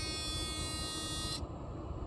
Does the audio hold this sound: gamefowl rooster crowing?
no